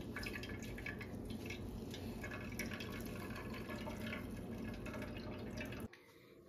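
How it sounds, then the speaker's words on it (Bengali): Fresh chhena for rasgulla drains its water in a kitchen, a steady continuous trickle and patter that runs for several seconds before stopping abruptly. "জলটা সম্পূর্ণরূপে ঝরিয়ে নেব"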